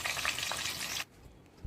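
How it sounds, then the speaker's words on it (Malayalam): Cashews and raisins frying in ghee give a dense, steady sizzle that runs loud for about a second, then cuts off abruptly to near quiet with one small clunk near the end. "കാഷ്യൂനട്ടും മുന്തിരി കഴുകി വെച്ചിട്ടുണ്ടായിരുന്നു ഞാൻ, അത് നെയ്യിലേക്കിട്ട് നല്ലപോലെ മുരിച്ചെടുക്കണം."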